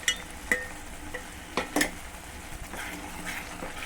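Papaya halwa with nuts and cardamom powder in ghee gets stirred in a pan, with a few soft clinks and scrapes of the spoon against the metal over a quiet background.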